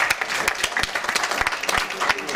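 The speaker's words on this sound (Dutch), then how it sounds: "graag een applaus voor beide vechters." Crowd applause for both fighters after a match ending in a draw: dense, lively clapping with distinct sharp hand claps, steady and fairly close throughout.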